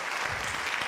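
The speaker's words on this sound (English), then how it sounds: "Please give a big round of applause." Audience applause at a day-one gathering, a short, dense burst of steady clapping from a crowd, fairly close, with no talking over it.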